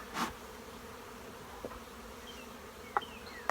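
Bees hum around a queen castle hive, a quiet, steady drone at close range with a few faint clicks and taps, and no voices.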